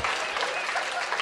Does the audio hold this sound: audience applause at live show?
yes